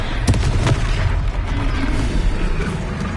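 A Confringo blasting curse goes off in a Harry Potter video game: a loud, sustained booming roar with a couple of sharp cracks near the start, filling the whole moment.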